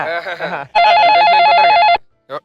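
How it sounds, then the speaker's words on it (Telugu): A telephone rings with a loud, warbling electronic trill that lasts just over a second, followed by a brief second burst, on a comedy skit stage. People talk just before the ring. "ఎవరా ఫోను"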